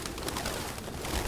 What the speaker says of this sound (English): Pigeons everywhere.